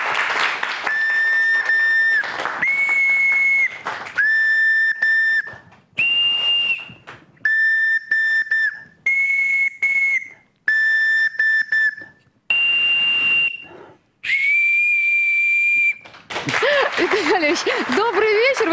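Wooden folk whistles blown by a craftsman on a Belarusian evening stage show, a series of bright, pure piercing tones in short phrases separated by pauses, some trilling and warbling, ending with applause.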